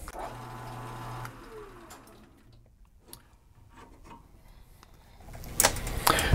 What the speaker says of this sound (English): you can actually pulse the lathe and go ahead and get it started to make those threads